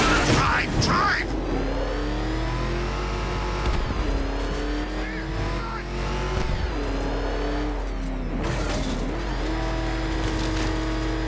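The Batmobile from Batman Arkham Knight drives in the game, its engine holding a steady revving drone with shifts in pitch as it accelerates, while voices and game sounds cut in over it.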